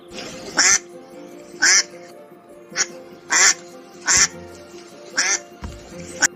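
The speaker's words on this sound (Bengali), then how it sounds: "পাতিহাঁসের বাচ্চা।" A duckling quacks in a series of short, sharp calls, about seven evenly spaced bursts, close and clear over a faint background, with no talking.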